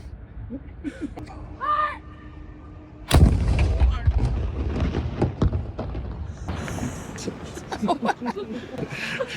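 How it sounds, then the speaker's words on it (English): Voices talk briefly, then a single loud, deep cannon blast booms nearby and rolls away, followed by scattered chatter and reactions from a crowd at a ferry crossing from Maine to Nova Scotia. "And after the cannon is fired, please do not cross the rope until I give the go-ahead."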